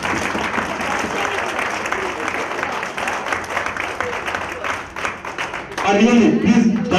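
A live audience at a cultural event breaks into sustained applause and clapping, a dense steady wash that swells louder near the end with voices mixed in.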